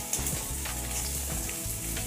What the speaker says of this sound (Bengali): এখন আমি ঝিঙেগুলো দিয়ে দিলাম। এটাও ভালো করে ভেজে নিতে হবে।